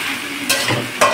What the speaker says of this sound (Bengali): জিরে তেজপাতা ফোড়ন দিয়ে দিয়েছি।